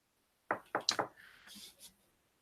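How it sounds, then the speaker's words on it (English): Four quick knocks at a door in a basement bar, crisp and close, followed by a soft scrape or rustle in a quiet space. "And now we slowly begin with a knock at the door."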